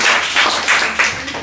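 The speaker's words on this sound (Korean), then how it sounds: "우리 고3들에게 박수 한번 줄까요?" Dense, loud applause from a youth church congregation cheering high school seniors, a continuous wash of many hands clapping at once with slight swells, short and without voices.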